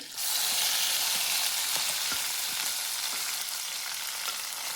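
Ground masala paste fries in oil in a pan for rajma curry, a loud dense sizzle rising at the start and holding steady, dotted with small pops and light stirring taps, no talk.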